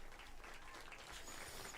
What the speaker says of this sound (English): Room there at the Jet Propulsion Laboratory erupting in applause